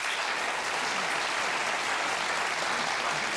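Studio audience of about 500 people at a late-night talk show applauding steadily, a dense continuous wash of clapping with no talk over it.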